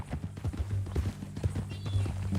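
Horse hooves clip-clopping at a steady walking pace in a Western video game, a quick run of soft close hoof beats with faint background sound.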